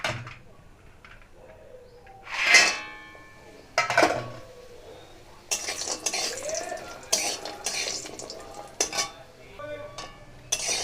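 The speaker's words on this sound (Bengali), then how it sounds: "সবার প্রথম আমি ভেজে নেব বড়ি।" Bori lentil dumplings frying in hot oil in a karahi while a metal utensil stirs them, giving a couple of sharp clanks early on, then a busy run of scraping and clinking with faint sizzle underneath.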